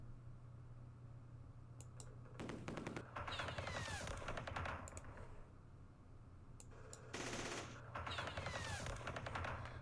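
Bursts of automatic gunfire in the Vietnam War strategy game Campaign Series Vietnam as units attack a sniper, two rattling volleys of rapid shots over a steady low background hum.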